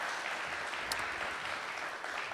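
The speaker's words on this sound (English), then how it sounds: "Everyone applaud." An audience in a community theater setting applauds, a dense, steady wash of clapping that holds at an even level throughout with no voices on top.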